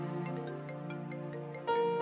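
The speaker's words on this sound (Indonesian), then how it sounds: "Bentar, ada telepon." A phone ringtone plays a repeating melodic pattern of bright tones, then shifts to a louder, sustained tone near the end; no one speaks.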